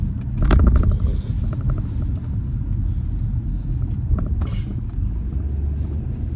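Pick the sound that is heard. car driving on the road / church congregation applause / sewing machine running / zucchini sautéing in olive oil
car driving on the road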